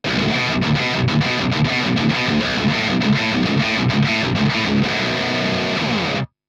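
Super heavy high-gain electric guitar through a Victory Kraken MKII amp, dense distorted riffing with choppy rhythmic stops, played loud and cutting off abruptly at the end.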